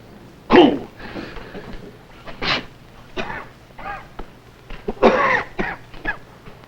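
Several harsh coughs burst out at irregular intervals, close by, with quieter breathing sounds between them.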